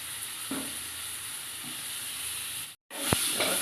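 Corn and chopped tomato for a soup being stirred in a pan, a soft sizzling hiss with a few faint scrapes, a brief cut to silence, then a sharper clink as stirring resumes.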